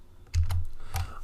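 A computer keyboard shortcut, Control-Alt-B, pressed as a quick cluster of two or three close, crisp key clicks, with a brief quiet pause before them.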